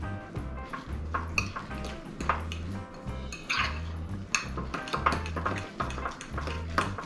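Food is stirred in a metal pot at a cook-off, a spoon scraping and clinking against the sides in a steady, repeated rhythm, close and moderately loud with no talking.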